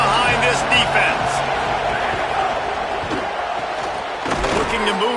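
Stadium crowd at a college football game between Florida and Jacksonville State roars steadily behind the defense on a big third down, a dense continuous wall of cheering with shouts and thumps, voices audible within it.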